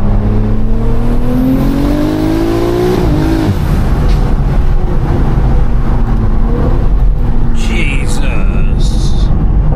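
A 1400 bhp BMW M3 Touring running low boost revs hard on the road, its engine note climbing steadily then dropping, with loud interior rumble and a voice speaking over it.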